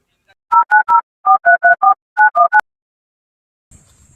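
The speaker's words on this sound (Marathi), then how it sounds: "लाव तू फोन लाव" A quick run of ten short, clear electronic telephone tones in three groups, then silence and a faint steady tone at the end.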